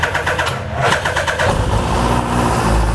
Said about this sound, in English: Right, we'll go ignition and we'll go start.